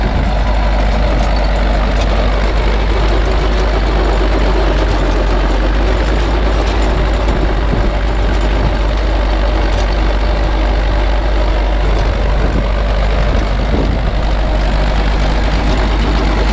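An Ursus C-360 tractor engine runs steadily in a field, a loud, continuous low rumble with no pauses and no talk over it.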